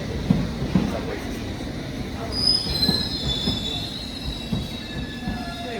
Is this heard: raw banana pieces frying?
no